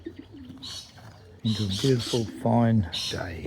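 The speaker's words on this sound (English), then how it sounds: "Obviously the birds are out for a bath this morning." Pigeons or doves coo outdoors on a clear morning, soft repeated calls running under a man's nearby speech.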